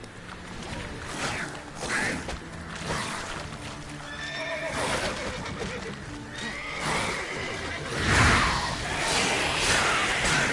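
Roach, the horse in The Witcher 3, gallops with a steady clip-clop of hooves and gives several whinnies and neighs, close and clear, with a voice speaking briefly over it.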